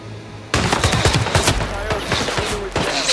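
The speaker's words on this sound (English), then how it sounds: "I think someone is firing a gun." Video game gunfire in Hitman 3, a loud close burst of rapid shots that erupts suddenly and keeps going in a dense fusillade for about three seconds.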